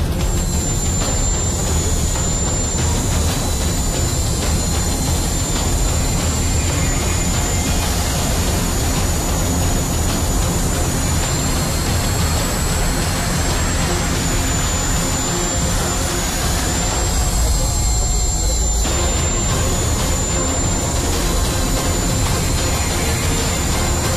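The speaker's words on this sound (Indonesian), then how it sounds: "kita akan menurunkan helikopter mini tersebut tepat di tengah-tengah lingkaran yang dibuat" A mini helicopter descends to land in the centre of a circle formed by people at an outdoor anniversary event, its steady rotor and engine roar loud and continuous with a high whine running throughout.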